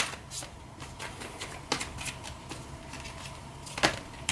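Tarot cards are shuffled by hand in a riffling, papery flutter of rapid irregular slaps, close and clear, ending in a sharper snap near the end.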